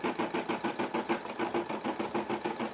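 A Brother SE600 embroidery machine stitches out a Puma logo, its needle hammering in a fast, steady mechanical rhythm that runs close and continuous with no talk.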